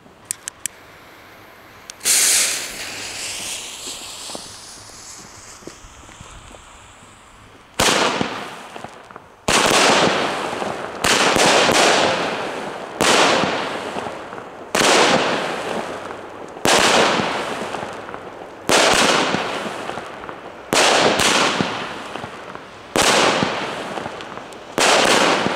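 A Lidl Pretty Heaven fireworks battery with 13 shots ignites with a fizzing launch, then fires a rapid series of loud, sharp bursts, each trailing a crackling hiss, heard outdoors at close range.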